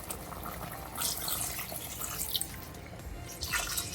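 Water being poured into a pot of mutton and potato gosht curry, a steady splashing, dripping fill that swells in bursts, close by, with no talk.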